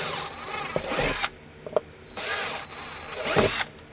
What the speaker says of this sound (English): We'll go ahead and get some holes drilled.